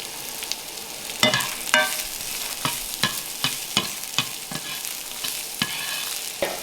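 Ginger stir-fries in a wok over low heat alongside white scallion for stir-fried liver and garlic chives, a soft steady sizzle broken by regular scraping strokes of a spatula, close and moderately quiet with no talking.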